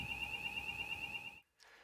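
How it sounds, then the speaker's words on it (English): Fire alarm sounding in the background, a faint, steady high electronic tone that holds for over a second then cuts off, followed by a brief softer blip. "there's a fire alarm going off in the background."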